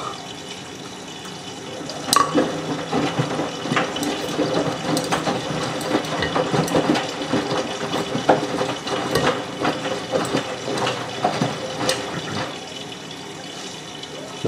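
Miele W562 washing machine filling with water for a high-level rinse on a Minimum Iron 30°C cycle: steady rushing inflow with mechanical clicks and ratcheting knocks, close and continuous.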